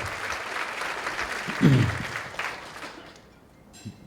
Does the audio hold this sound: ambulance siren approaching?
no